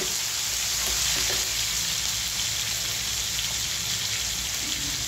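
Tomatoes hit hot oil with browned garlic in a pan for drumstick bhaji, a dense, loud, continuous sizzle and spatter up close, with faint stirring and no voices.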